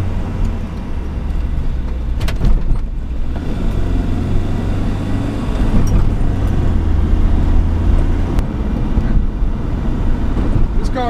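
Low, steady engine drone and road rumble from a 1987 Volvo 245 with a naturally aspirated 2.3-liter inline-four and rear-wheel drive, heard from inside while driving, loud and constant with a faint voice.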